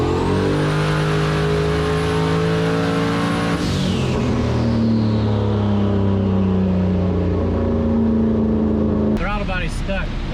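A turbocharged LS engine in a Foxbody Mustang, running on 93 octane with a Holley Terminator X, revs loudly under boost with strong rising and falling engine tones, then a sharp whooshing turbo release near the end, with a voice talking over it.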